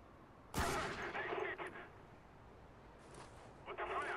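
Gunfire in the war shooter Spec Ops: The Line, a sharp burst of shots followed by a short rattle, then another cluster of shots after a quiet gap, faint overall.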